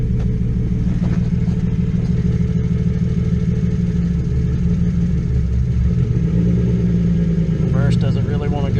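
Straight-piped BMW Z4 with headers and a freshly installed motor idling very loudly up close, a steady deep rumbling drone throughout with slight rises in revs, no talk over it.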